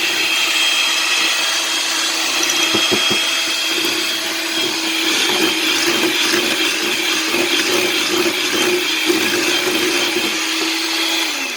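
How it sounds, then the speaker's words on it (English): An electric mixer whirs steadily through Amish cinnamon bread batter, a continuous close motor drone with slight strain variations for the whole stretch and no talking. "Going to mix this for a minute."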